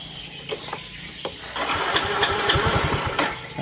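A Soul GT 125 motorcycle with a faulty throttle position sensor cranks with a few sharp attempts, then catches and runs in a rough, uneven idle with sputtering, irregular pulses, heard close up.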